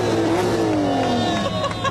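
A car engine revving while being driven, a loud, close droning tone that slides downward in pitch as the revs fall, steady and continuous over a short stretch with a faint voice underneath.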